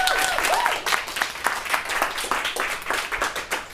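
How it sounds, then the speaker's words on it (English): An audience gives a round of applause for the judges at a podcast episode event, bright, clustered claps that come in uneven bursts and surges, fairly close and loud, with a faint voice or tone briefly at the start. "A big round of applause, actually, for all of our judges"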